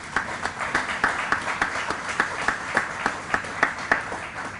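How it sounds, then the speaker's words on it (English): An audience claps at a training-center partnership announcement event, a modest group whose individual hand claps stand out in a fairly regular, distinct rhythm at moderate distance. "I think we should clap for that."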